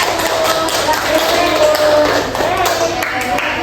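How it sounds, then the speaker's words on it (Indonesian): Applause for group 1 in a classroom microteaching session on second-grade addition and subtraction, a dense steady patter of many hands clapping close by for a few seconds. "boleh beri aplaus dulu untuk kelompok 1"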